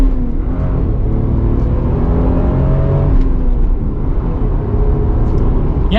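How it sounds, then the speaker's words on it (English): A stock MK4 Toyota Supra Turbo with a manual gearbox and 2JZ engine accelerates hard, its loud, steady engine drone and rumble filling the cabin as revs rise, with no voices. "Ooh, we're gonna get an acceleration here,"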